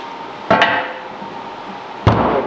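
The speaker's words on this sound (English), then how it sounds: "Maybe a soft face hammer." A soft face hammer strikes a car subframe bushing twice, about a second and a half apart, each a sharp close thud with a short ringing tail over a steady background hum, while assembling the suspension of a Nissan 350Z.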